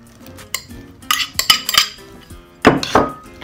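A utensil stirring green beans in a metal pot for a casserole, giving scattered scraping clinks and sharp knocks against the pot at an uneven rhythm, close and fairly loud, with no talking.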